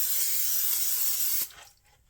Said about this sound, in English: It's a non-stick cooking spray is what it is.